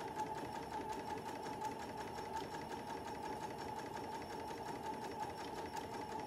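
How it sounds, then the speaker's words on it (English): A sewing machine runs in one steady, continuous stitching drone, stitching across a gathered fabric clutch, close and even throughout with no voices. "Go ahead and sew."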